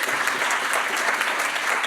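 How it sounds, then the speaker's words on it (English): Steady audience applause at a national health and justice symposium, dense continuous clapping filling the room at a constant level with no voices standing out. "Would you give her a round of applause"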